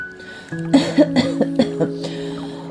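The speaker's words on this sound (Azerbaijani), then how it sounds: "Qurd öskürüb, biraz incə səslə dedi" A short series of throaty coughs, several bursts close together, over a steady humming musical background.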